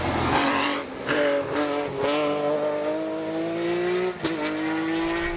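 An Audi race car engine roars loudly and continuously, pitch climbing and dropping through gear changes, with a brief dip near the end before revving again.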